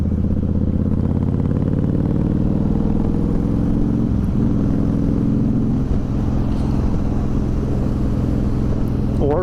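A 2011 Honda VT1300X Fury motorcycle engine drones loud and close as the rider accelerates on the road, with a steady low rumble that shifts pitch partway through, no speech over it.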